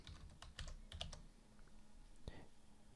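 Password being typed on a computer keyboard, a short quiet run of soft key clicks followed by a final louder keystroke, faint and close over low background hum.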